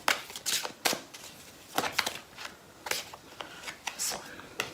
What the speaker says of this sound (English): Maybe give the deck a little shuffle around this way